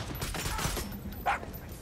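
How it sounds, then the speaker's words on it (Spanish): Bursts of gunfire in the video game Far Cry 6, distant and faint fusillade crackles with one sharper shot near the end, quiet overall with no talk. "¿Dónde vienen esos disparos?"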